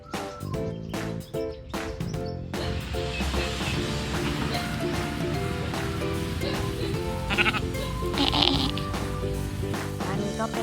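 Sheep and goats bleat at a farm-style petting area beside a boutique homestay in Khlong Luang, Pathum Thani, Thailand. Repeated bleats rise over a steady, busy background, with faint chirps mixed in.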